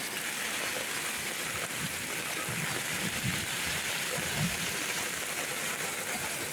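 Heavy rain pouring during a flood, a steady dense hiss of rainfall with low rumbling underneath, continuous and fairly loud.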